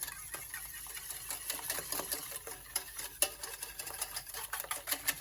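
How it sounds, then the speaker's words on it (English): Collagen powder being whisked into liquid in a kitchen bowl, a fast, steady scratchy clatter of wire against the container with irregular sharper ticks, close and fairly quiet, with no voices. "so you just need to whisk that in."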